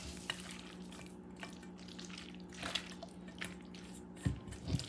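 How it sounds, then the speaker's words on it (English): A homemade sauce for tagliatelle and lamb chops is mixed in a pan, soft wet squishes and light drips that are faint and close, with a couple of sharper stirring pushes near the end and no voices. "And then mix things up very well."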